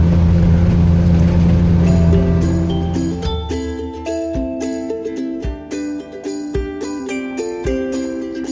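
Land Rover 109 Series IIA station wagon with a six-cylinder gas engine driving: a low engine rumble fills the first few seconds, then fades under bright, tinkling music.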